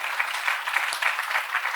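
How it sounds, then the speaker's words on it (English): Audience applause for a guest at the Getahead Festival 2018, a steady, moderately loud patter of many hands clapping together throughout, with no speech over it. "So big round of applause"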